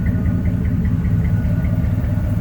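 A 1994 Chevy C1500 Sport pickup engine idles loud and close, with a steady low rumble and a faint regular ticking pulse running through it.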